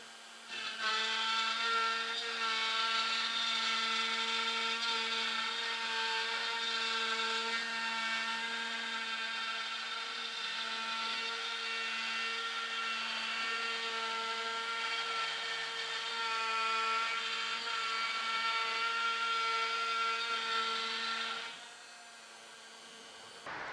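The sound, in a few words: CNC router cutting plywood for push pad handles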